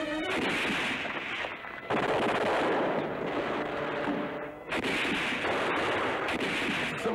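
Sustained gunfire and artillery barrage from a war television series, a dense continuous roar of shots and blasts filling the whole stretch with brief dips, loud and close, with no voices.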